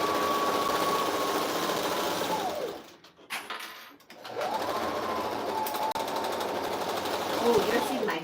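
A sewing machine runs steadily while stitching a crazy quilt with big, loose decorative stitches, pausing briefly midway before the motor whirs up again; a voice talks over parts of it.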